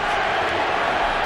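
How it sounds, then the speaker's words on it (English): A boxing arena crowd at Pacquiao versus Morales roars and chants for Manny Pacquiao, a dense continuous wall of voices, loud and sustained. "Pacquiao crowd chanting, Manny, Manny, Manny."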